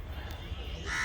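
A crow caws overhead near the Taj Mahal in Agra, a single rough call over steady outdoor noise and faint distant voices.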